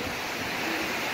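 Ocean surf washes onto Marina Beach in Chennai, a brief broad rush of breaking water mixed with wind.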